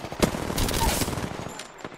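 Rapid automatic gunfire in the Apex Legends battle royale shooter, a loud rattling burst with sharp individual cracks that tapers off over two seconds, no talk over it.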